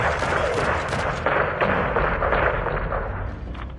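Airstrike explosions level a greenhouse in the Call of Duty: Modern Warfare II campaign, a dense, loud, continuous roar of blasts and rumbling debris with no pauses, fading slightly at the end.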